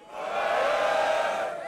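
A rap battle crowd roars and cheers in a sustained swell that rises quickly and holds. A broad, loud wash of voices with some whooping carries through, and no clear speech stands out.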